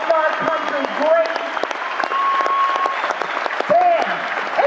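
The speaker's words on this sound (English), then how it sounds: "Clap it up for this guy and all the military who helped make our country great." Comedy-show audience breaks into strong, sustained applause, clapping steadily throughout with a voice speaking over it.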